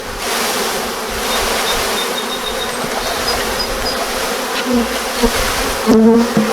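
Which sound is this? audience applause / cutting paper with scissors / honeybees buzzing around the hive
honeybees buzzing around the hive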